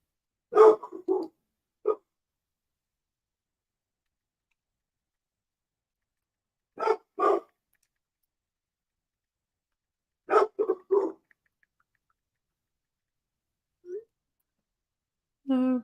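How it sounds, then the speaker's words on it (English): A pet dog barks in short clusters of two or three sharp barks, fairly close, separated by long quiet gaps, with a single soft yelp near the end. "Every single time she decides to start barking."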